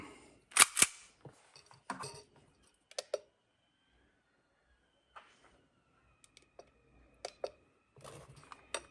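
Sig Sauer 1911 BB pistol's trigger being pulled against a gauge, sharp scattered clicks and snaps with quiet gaps between them, a couple of louder cracks near the start.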